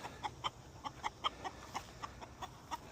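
Meat chicken hens cluck close by in short, rhythmic bursts, about a dozen quick clucks over a quiet background.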